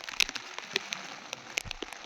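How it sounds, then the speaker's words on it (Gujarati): A downpour at Girnar comes through as a constant gentle wash of rain, dotted with sharp close drops tapping on surfaces at irregular moments. "વરસાદ અત્યારે ગજબ ચાલુ થઈ ગયા છે."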